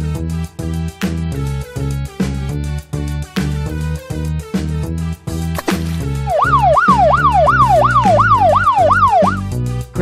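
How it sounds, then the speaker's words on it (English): A toy police car sounds a loud wailing siren that rises and falls rapidly in a steady, repeated sweep. It comes in partway through, over bouncy children's music with a steady beat, and keeps going to the end. "Police car."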